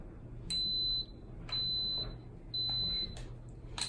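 An Instant Pot gives three steady high-pitched electronic beeps, each about half a second long and evenly spaced, followed by a short blip, over a quiet background hum.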